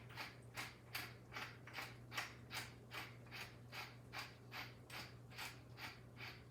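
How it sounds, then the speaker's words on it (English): Fresh pepper being cracked through a pepper grinder over a dish, a steady run of about a dozen crisp ratcheting grinds, close and distinct over a low steady hum. "I am gonna add some fresh cracked pepper through it"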